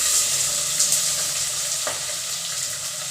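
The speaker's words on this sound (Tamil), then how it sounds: "இது இனி ஒரு பொன் நிறம் வர்றது வரை கொஞ்சம் நம்ம நல்லா வதக்கி விட்டுடலாம்." Onions and green chilies fry in a pan for Tamil tomato curry, a steady close hiss of sizzling oil. A single brief clink or scrape is heard partway through.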